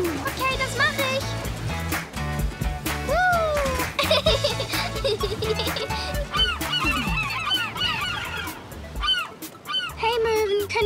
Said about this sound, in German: Hey Möwen, könnt ihr bitte weggehen? Die Meerjungfrau möchte vorbei.